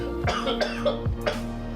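Three or four short, harsh coughs in quick succession from a person who is ill, close and clear, with a faint steady hum behind them.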